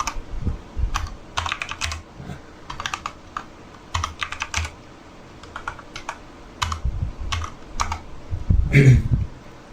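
Computer keyboard keys clatter in quick bursts and short pauses while a new folder name is typed in a file browser, steady and close with no voices.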